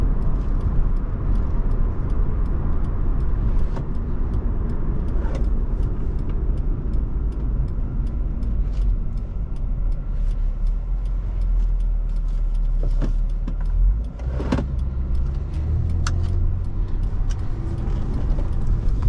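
A 2007 Honda Accord Coupe EX-L V6 drives along at a steady, smooth cruise, its low engine and road rumble continuous and close, with a brief dip and a few light knocks partway through.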